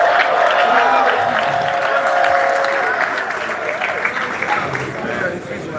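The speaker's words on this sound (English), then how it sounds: "Round of applause to you guys." Crowd applause at a forex expo, dense clapping with a few cheers swelling loudly, then thinning and fading over several seconds.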